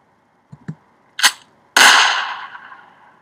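A couple of faint clicks are followed by a sharp crack and then one loud, close gunshot whose tail rings and decays over about a second and a half.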